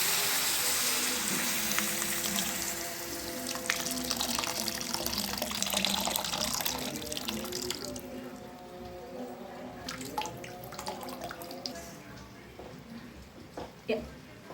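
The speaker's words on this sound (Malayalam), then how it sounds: "അതിലേക്ക് നമ്മൾ പുളിയുടെ വെള്ളം ഒഴിക്കുകയാണ്." Tamarind water pours steadily into a pan of frying spices, a broad rushing splash for several seconds that then eases into gentle bubbling, under a voice talking throughout.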